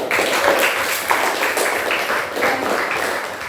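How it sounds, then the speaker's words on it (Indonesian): Classroom applause for student discussion groups during a teaching session, a steady wash of many hands clapping continuously throughout at moderate loudness, with no distinct talking over it. "Sekarang kita berikan aplaus untuk kelompok 1, 2, dan 3."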